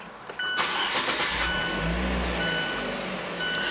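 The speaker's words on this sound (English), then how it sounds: "push the button here to fire up the engine." A 2017 Fiat 124 Spider's 1.4-litre turbo engine cranks via push-button start and catches, then settles into a steady idle with a low rumble, close by and fairly loud.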